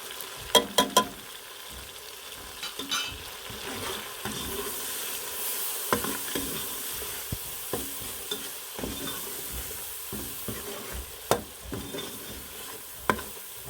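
Ground spices sizzle in hot oil for Lahori chana, with repeated sharp clinks and scrapes of a spoon against the pan over a low steady frying hiss, and no voices.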